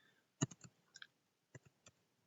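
A computer mouse gives a few faint, sharp clicks in quick pairs, close to the microphone in a quiet room.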